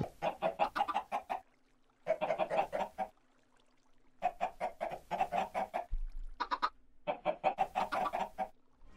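Chickens cluck in rapid bursts in a video game, several clipped runs of clucking separated by short silences, fairly close and moderately loud, with a brief low tone partway through.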